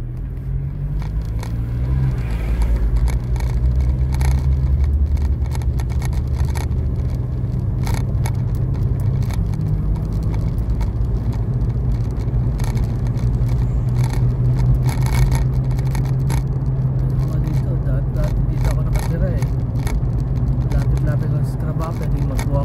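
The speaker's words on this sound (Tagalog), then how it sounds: "Hindi makita. Yan ang traffic." Road traffic rumbles continuously around a car, a dense low drone of engines with occasional scrapes and rattles, while people talk over it throughout.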